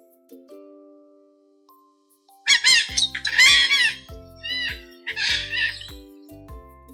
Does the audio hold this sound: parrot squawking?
yes